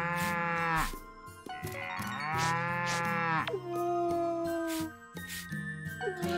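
An alpaca in Story of Seasons: Pioneers of Olive Town gives long, drawn-out, moo-like calls, loud and close, with soft jingling in the background.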